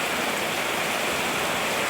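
A heavy rain downpour, the day's second, pours in a dense, constant hiss of water that never lets up, with no voices over it.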